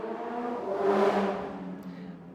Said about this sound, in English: People that drive those motorbikes are so loud.